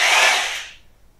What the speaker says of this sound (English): Old Black and Decker drill.